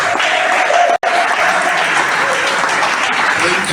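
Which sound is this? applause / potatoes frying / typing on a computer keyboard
applause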